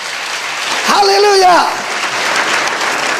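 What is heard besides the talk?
congregation applause in church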